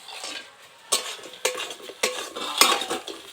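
Fried crabs are stirred into a thick spiced masala with coriander in a pan, making several distinct scraping, clattering strokes of a utensil against metal over a low sizzle, close and fairly loud.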